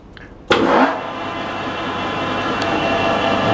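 A lathe turning at 635 RPM takes a 1.5 mm cut on a propeller shaft coupling boss: a sudden loud onset as the tool bites, then a steady, close, broadband cutting roar with no talk.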